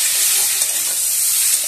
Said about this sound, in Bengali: আমি ভালো করে কষিয়ে নিচ্ছি চালগুলোকে এই মশলাটার সঙ্গে